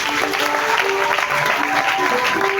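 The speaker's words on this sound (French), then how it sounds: "acclamez très fort pour elle." A church congregation applauds steadily throughout, a dense wash of clapping mixed with crowd noise and sustained musical tones in the background.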